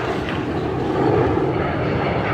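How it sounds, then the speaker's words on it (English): A stretch DC-9 jet airliner passes overhead above Shepherd's Bush, a steady, broad roar of engine noise holding at an even, fairly loud level throughout with no voices. "there's a jumbo jet going over now. No, it's not. It's a stretch DC-9."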